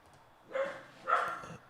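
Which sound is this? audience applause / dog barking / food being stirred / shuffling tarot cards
dog barking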